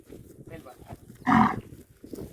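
A single loud low from a bull lasts about a quarter second, rising over quieter background voices and rustling.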